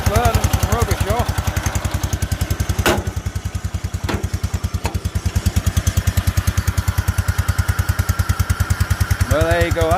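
An old tractor engine runs steadily after years sitting idle, a loud continuous rhythmic chugging with a few sharp knocks, and a voice briefly talks over it near the end.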